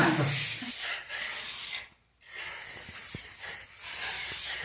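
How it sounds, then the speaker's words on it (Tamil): A hand rubs milk into fresh plaster on a mud-built house, making steady, close, hissing scrapes in repeated strokes with a brief pause midway. "பால் ஊற்றி சின்ன பால் ஊற்றி தேய்க்க தேய்க்க தான் நைஸ்"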